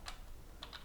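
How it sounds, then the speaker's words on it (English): A few quick keystrokes tap on a computer keyboard, one near the start and a small cluster near the end, faint and close with no talking. "Type in that less than sign from your keyboard."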